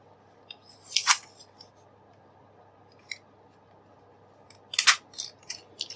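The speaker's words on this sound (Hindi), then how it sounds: "अगर पुश बटन की बात की जाए तो ये भी आसानी से रिमूव हो जाएगा बस इसको थोड़ी सी प्रेस करने की ज़रूरत पड़ेगी" Plastic keyboard push buttons are pressed and pried out, giving sharp, close clicks and snaps in two clusters a few seconds apart, with small ticks between them and no voice.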